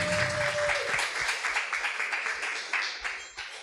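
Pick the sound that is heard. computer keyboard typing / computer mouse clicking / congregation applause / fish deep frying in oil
congregation applause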